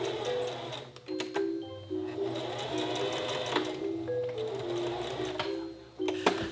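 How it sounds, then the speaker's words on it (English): Sewing machine stitching the neckline of a maternity dress, running in close bursts of rapid mechanical stitching with short pauses and clicks between runs, loud and near. "the first thing that I'm going to sew is the neckline"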